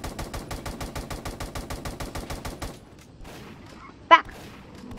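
Weapon fire in an SCP horror video game comes as a rapid, evenly spaced burst of about twenty loud shots over nearly three seconds, then quieter game sounds and a single short honk-like blare.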